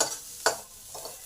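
A spatula stirs onions frying in a pan for kolmi shak, with two quick scraping strokes over a quiet, continuous sizzle.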